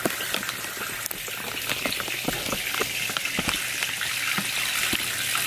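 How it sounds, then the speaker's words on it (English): Extra hot water runs steadily into a sink, a close, continuous splashing hiss with small irregular drips and spatters over it. "we'll be using a sink and hot ass water, extra hot water"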